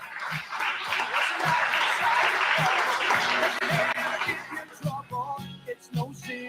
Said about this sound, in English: Let's give Jeremiah a round of applause.